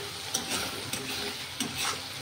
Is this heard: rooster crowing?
no